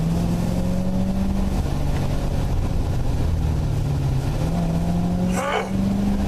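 A 2015 Chevrolet Corvette held in second gear on a winding road, its engine roaring steadily with pitch rising and falling as it revs, loud and close throughout, with a brief whoosh near the end.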